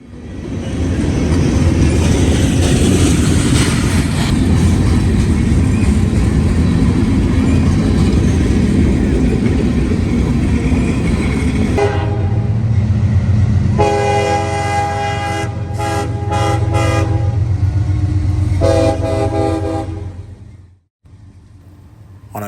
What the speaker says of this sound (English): Another southbound manifest, who got held up behind 561, follows closely behind on his way into.